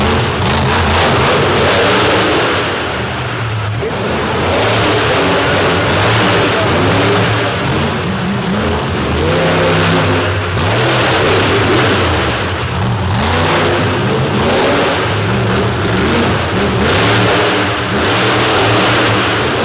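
The Toxic monster truck's engine roars continuously at full volume on a concrete course at a Corbin, Kentucky monster truck show, swelling and dipping through repeated revs with no break.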